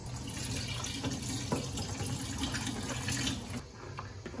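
Water running into a food-grade bag over a pot to rinse cassava starch, a soft steady trickling and splashing stream with small irregular drips, fairly quiet throughout.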